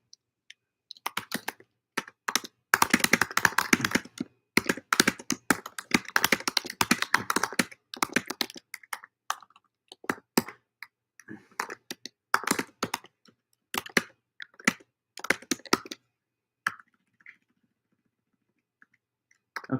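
Keys clatter on a computer keyboard as a message is typed into a chat, in bursts of quick clicks with short pauses, fairly close and steady, with no talking.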